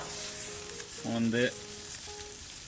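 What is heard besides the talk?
steaks searing on a grill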